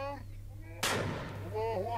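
A single sharp gunshot cracks out in street fighting in Khan Yunis, loud and close, with a voice speaking just before it and again as the echo fades.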